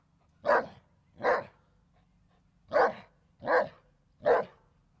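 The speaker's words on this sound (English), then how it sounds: "bark right in there" A dog barks five times in short, evenly spaced single woofs, loud and close, while urging a squirrel up a tree, with a low steady hum underneath.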